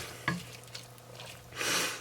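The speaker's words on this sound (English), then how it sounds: "We want to get that sauteed." A medium onion sautéing in a pan for venison chili on a slow stove, a soft sizzle with a light knock of a utensil early on and a brief louder hiss toward the end.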